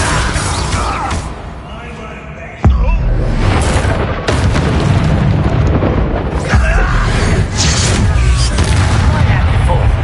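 A Descendo spell cast at enemies in Hogwarts Legacy lands with a sudden heavy slam, leading into sustained loud booming, crashing combat noise, with a voice shouting spell names over the fight.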